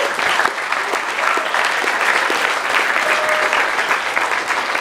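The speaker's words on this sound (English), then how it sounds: "So please, a big round of applause for our volunteers." A crowd at a hackathon closing ceremony applauds volunteers with steady, dense clapping that holds loud and even throughout, a few sharper claps and a faint whistle standing out from the mass.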